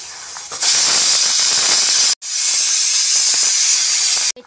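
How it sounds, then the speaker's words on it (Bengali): Pabda fish curry broth with teasel gourd and potato boils as the fish go in, giving a loud, steady steam-like hiss with a brief break partway through. "ঝোল ফুটে গেছে, এখন মাছগুলো দিয়ে দেবো।"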